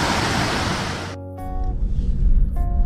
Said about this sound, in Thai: ดูน้ำตกโคตรสวยเลย